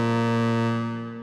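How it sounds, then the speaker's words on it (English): A sustained growling, distorted synth lead for melodic techno, with a single rich note stacked in three octaves, loud and buzzy before tapering off at the end. "So this lead sound utilizes really different octaves."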